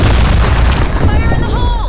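Grenade blast in a first-person shooter game, a loud booming explosion with heavy low rumble that fills the short moment, with a voice calling out over it.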